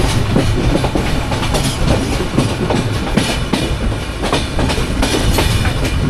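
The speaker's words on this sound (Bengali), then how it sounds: "এই ট্র্যাকে একটু সেই আগের দিনের মতো ঘটাং ঘটাং শব্দ পাওয়া যাবে।" Banolata Express train clattering rhythmically over older-style rail track, a loud, steady rolling clack of wheels and carriages heard close from inside the moving train, with no talk.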